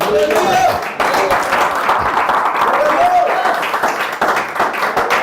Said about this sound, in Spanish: Alguien dele palmas al Señor